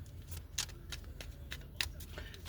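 Small tarot deck being shuffled by hand, a few quick soft riffling and slapping card sounds in short bursts over a quiet background.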